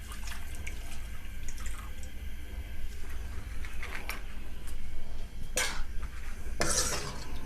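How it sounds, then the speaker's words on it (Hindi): Water is poured from a glass into a cooking pot of mutton kidney, a soft continuous trickle and splash with light clinks of metal, then a couple of sharper clattering bursts near the end as utensils knock. "1 गिलास से थोड़ा कम, पौना गिलास पानी डाल दें इसमें।"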